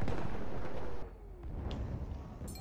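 Heavy booming gunfire from a first-person shooter game, a dense loud burst filling the first second, then dropping to a lower rumbling background with faint crackles and a sharp noisy burst at the end.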